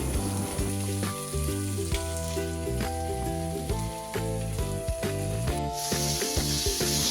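Ginger, green chilli and garlic paste for egg biryani fry in a pan with a steady sizzling hiss, partly masked by louder rhythmic background music playing over it.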